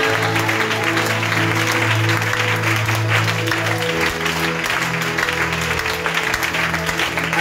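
Church congregation at an evening worship gathering claps and cheers in sustained, dense applause, steady and loud throughout with a held musical tone underneath.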